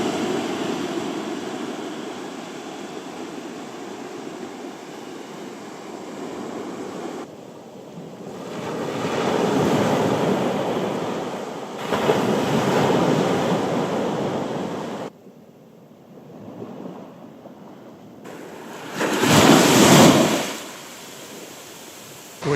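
Waves wash onto a sandy beach along a narrow inlet at Melmore Head, Donegal, at low tide, a steady broadband surf with wind noise and louder swells around the middle and near the end.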